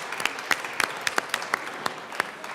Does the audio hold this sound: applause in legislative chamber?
yes